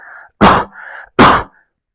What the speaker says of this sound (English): here's what my cough sounds like normally